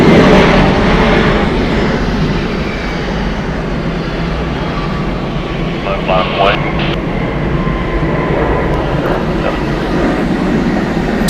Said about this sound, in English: Departing is Southwest 2252 going to Milwaukee. It's a Boeing 737.